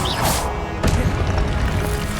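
A Confringo blasting spell explodes in Hogwarts Legacy, a sharp boom and crash that cuts into steady game background noise and then fades under lingering ambience.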